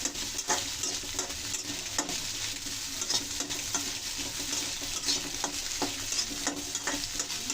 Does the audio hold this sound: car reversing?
no